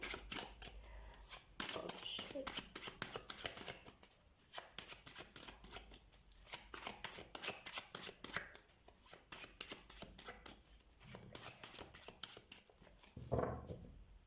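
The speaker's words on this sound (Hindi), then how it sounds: "let's shuffle your cards" Tarot cards being shuffled by hand for a reading, a steady run of quick papery riffles and flicks close up, with a soft voice speaking briefly near the end.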